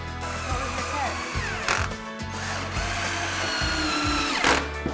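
A power drill drives pocket-hole screws into the ends of 2x lumber boards while a kitchen island tabletop is built: repeated short whirring bursts with stops and restarts, close and loud, plus some workshop clatter.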